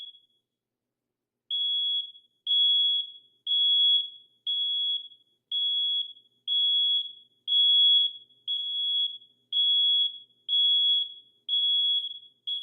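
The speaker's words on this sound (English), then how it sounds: "Smoke detected." A smoke alarm emits a steady series of loud, high-pitched beeps, about one per second, continuing alone with silence between pulses.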